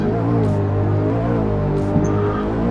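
A Ferrari F440 mod car engine in Euro Truck Simulator 2 drones steadily in the game, a smooth harmonic engine tone that stays even and continuous, with faint background noise.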